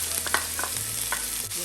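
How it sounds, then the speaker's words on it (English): Onions and green peppers sauté in a little oil in a pan, giving a steady, close sizzle with faint stirring scrapes. "So go with the onions and the green peppers."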